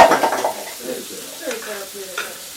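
Meat sears on a grill at a dinner party, a steady hiss and crackle that starts loud and settles lower, with faint voices in the background.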